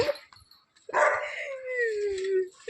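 A dog gives a short bark, then a longer drawn-out whining howl, close and clear in an otherwise quiet space.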